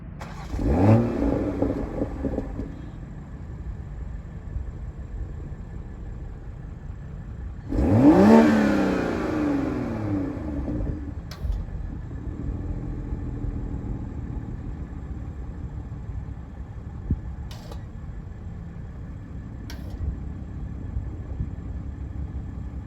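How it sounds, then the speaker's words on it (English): A 2021 Toyota Supra GR engine cranks and fires with a loud rising roar, revs briefly, then settles into a steady, rumbling idle. "it is time to display the exhaust note in the startup"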